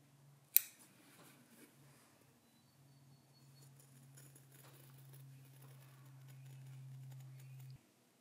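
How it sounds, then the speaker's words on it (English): Scissors cut through fabric flower petals. A sharp snip opens the passage, followed by soft, faint clipping and rustling close by in a quiet room. "Once you've cut all the flower petals"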